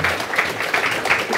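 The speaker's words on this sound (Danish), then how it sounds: "Klap." Audience applause at Folkemødet 2024, a steady wash of many hands clapping together that holds at an even level throughout.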